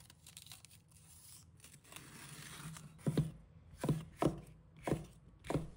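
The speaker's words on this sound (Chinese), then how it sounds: "把它切成小块" A kitchen knife chops green and red chili peppers into small pieces on a cutting board. After a quiet start with a faint slide, five crisp, evenly spaced chops ring out close by.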